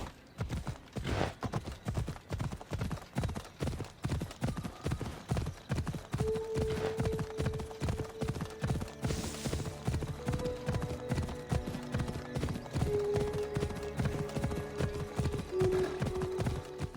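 Horse hooves clip-clop in a steady galloping rhythm through the whole stretch in Assassin's Creed Odyssey, loud and close, with a brief whinny and a soft tonal music bed underneath.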